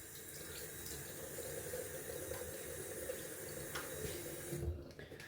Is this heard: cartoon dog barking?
no